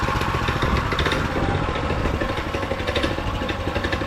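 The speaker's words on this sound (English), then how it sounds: "let's see how this thing starts on a cold start" A minibike's small engine runs after a cold start, a close, loud, rapid clattering putter idling steadily with no voices.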